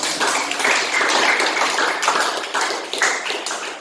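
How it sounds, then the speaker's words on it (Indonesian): A classroom group applauding together, dense, loud clapping sustained throughout with no talking over it. "Kasih tepuk tangan dong buat kelompok."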